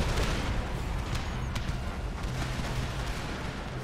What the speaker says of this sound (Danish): Det er i hvert fald i gang med at bombardere dem med quicklime og hvad der ellers hører til